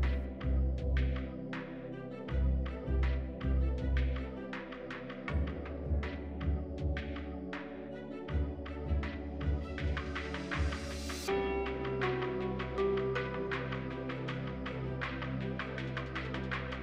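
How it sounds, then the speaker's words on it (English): A sewing machine stitches the waistband ends of small paned doll breeches closed, running in a steady rhythmic throb with a motor hum and a few shifts in pace as it backstitches. "we'll just sew the ends closed, backstitching at the top and bottom edge to make sure this won't ravel."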